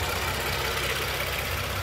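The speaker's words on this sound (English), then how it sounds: "Got a nice exhaust system on it, which I'm going to let you listen to" A clean-engined car at a car festival idles through an aftermarket exhaust system, a steady low rumble heard briefly and alone.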